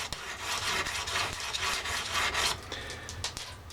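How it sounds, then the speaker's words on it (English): A knife edge is held flat and rubbed back and forth on a sharpener, giving repeated close gritty scraping strokes in a steady rhythm. "put that knife edge right flat down on that sharpener and just polish away"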